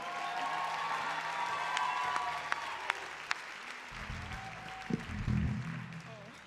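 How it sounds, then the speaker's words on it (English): An audience at a spring school guitar showcase applauds at moderate distance, a soft continuous patter of clapping with scattered sharper claps, while a low amplifier hum and some background chatter rise toward the end. "so can we get a big round of applause for Noosh?"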